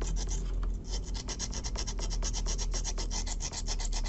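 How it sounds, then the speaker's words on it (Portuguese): Rust is sanded off a small, well-used cauldron at a rural homestead, heard as steady, rapid back-and-forth rasping strokes, close and continuous, with no voices. "eu vou lixar aqui o maior parte que eu consegui"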